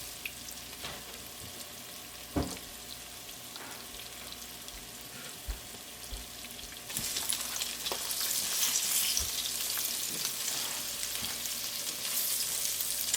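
Paneer (750 g of cottage cheese) goes into a quarter cup of hot oil in a pan. A quiet background hiss swells midway into a louder, continuous sizzle, with a few soft knocks and no voices.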